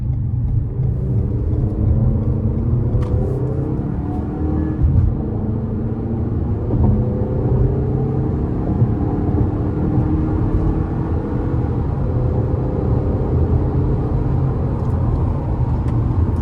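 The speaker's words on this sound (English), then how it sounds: "Now I'm going to put it in a sport and hopefully I can give it a good pull getting on the interstate here." A 2025 Toyota RAV4 LE FWD pulls onto an interstate in sport mode, its steady engine drone rising under constant road and wind rumble from inside the cabin, with no voices.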